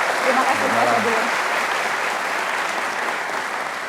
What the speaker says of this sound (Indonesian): Boleh kita kasih tepuk tangan untuk Pak Sabilul.